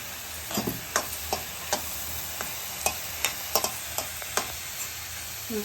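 Vegetables sizzle in a hot pan for paneer fried rice while a spatula scrapes and stirs them in repeated sharp clicks over a constant frying hiss.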